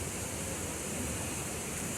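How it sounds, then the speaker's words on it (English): A waterfall near a cave gives a dense, unbroken roar of rushing water, steady and close, with no other sounds above it. "we're going to head over and take a closer look at the waterfalls"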